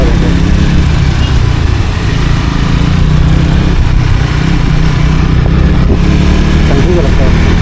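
A Honda Activa scooter riding along the Ahmedabad to Himmatnagar highway, its small engine droning steadily under loud wind rush, constant and close throughout.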